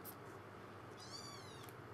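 A cat meows once, faintly, over a low steady background hum, with no voices.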